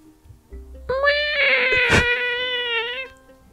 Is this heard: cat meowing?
yes